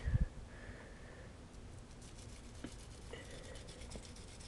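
A brush scrubs dirty skateboard bearings in a cup of liquid, making faint, quick scratchy strokes that repeat after a brief louder bump at the start.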